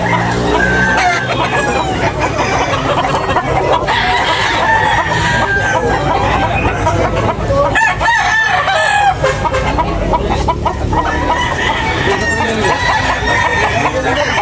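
Roosters crow repeatedly over a dense, noisy din of clucking birds at a rooster sale in Tabunok, Philippines, with someone talking intermittently in the background.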